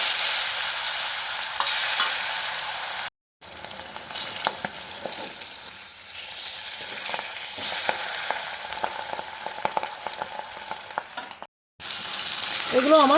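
Fish pieces frying in hot oil for a fish curry, a steady loud sizzle broken by scraping stirs, with two brief silent gaps in the continuous crackle.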